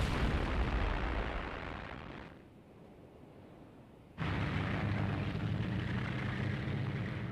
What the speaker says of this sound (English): Rommel's artillery took a terrible toll.